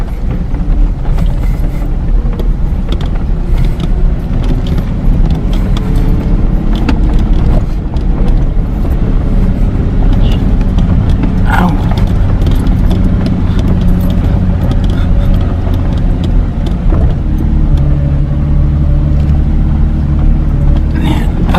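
An off-road vehicle climbs a hill at a trail park in four-wheel-drive low range, second gear, its engine a loud, steady, continuous drone throughout, with bumps and rattles of the body over rough ground.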